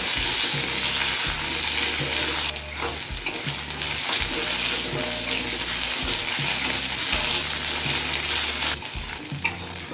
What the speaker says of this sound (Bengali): এখন এই আলুগুলোকে একটু লাল করে ভেজে নেবো